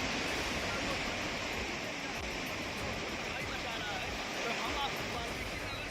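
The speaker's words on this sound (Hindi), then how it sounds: "वाल्मीकि नगर गंडक बराज से, जहां पानी की रफ्तार इतनी ज्यादा है कि कुछ भी ठीक से सुन पाना भी मुमकिन नहीं हो पा रहा है" Floodwater roars through the Gandak barrage at Valmiki Nagar during a Bihar flood, a dense, loud, unbroken rushing wash that fills the whole scene.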